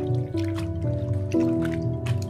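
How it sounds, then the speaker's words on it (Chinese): Water drips and trickles in a bowl as fresh fish slices are rinsed clean by hand, with soft splashes and squishing repeating in a steady rhythm, close and moderately quiet. "把鱼片清洗干净。"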